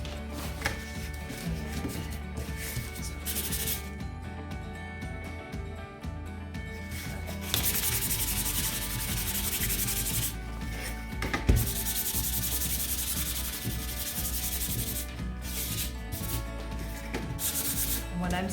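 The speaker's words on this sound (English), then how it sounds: "When I'm sanding the edges," Sandpaper rubs in repeated short strokes along the edges of a painted laser-cut wooden kit piece, close and steady with brief pauses between passes.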